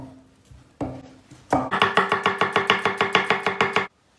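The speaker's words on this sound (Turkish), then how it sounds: "Patatesleri kuşbaşı doğruyorum." Potatoes being cut into cubes on a board: a couple of single knife strikes, then a quick, even run of about fifteen crisp chops close by, ending abruptly.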